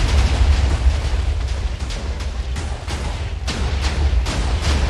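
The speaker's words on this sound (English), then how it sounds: "That sure is a lot of fucking TNT" Heavy booming TNT explosions in Minecraft rumble loudly and continuously, with repeated deep blasts overlapping into a sustained roar.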